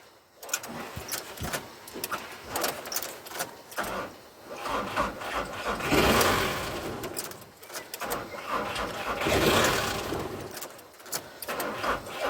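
A VW T5 camper van engine cranks but fails to catch, giving repeated uneven churning bursts of starter and engine noise at close range.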